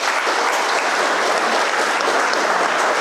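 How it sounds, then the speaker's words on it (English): Steady, full applause fills the hall at a 12th-grade graduation ceremony, an even wash of many hands clapping at constant loudness with no voices. "So please give him a round of applause."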